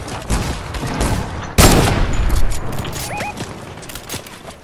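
Gunfire in a shooter video game: a dense burst of shots, with one loud, close blast in the middle standing out among scattered rapid cracks and in-game effects, with no talking.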